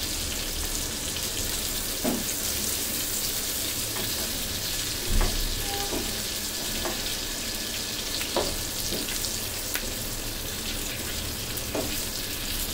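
Ghati prawns fry in hot oil in a kitchen pan: a continuous, close, even sizzle with a few soft clinks and pops scattered through it, and no talking.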